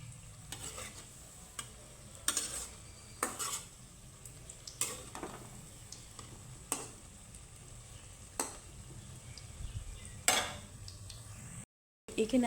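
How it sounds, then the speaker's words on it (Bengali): Something frying in a pan until reddish, part of a ripe mango and hot milk recipe, with a steady soft sizzle broken by repeated scraping stirs and clinks of a utensil against the pan. "আমার একটা ভাজা হয়ে গেছে দেখো খুব সুন্দর করে লাল করে আমি ভেজে নিয়েছি"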